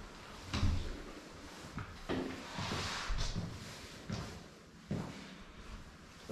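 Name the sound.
apartment building entrance door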